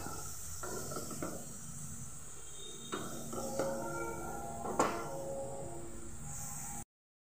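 Chopped tomato frying with ginger-garlic spice paste in a pan, a steady, soft sizzling hiss throughout with a few faint utensil clinks, no talking.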